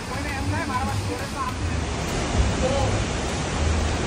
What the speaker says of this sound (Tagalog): Ang ganda talaga ng waterfall.